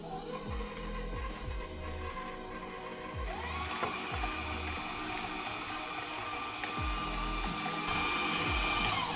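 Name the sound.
stand mixer mixing butter and sugar for cookie dough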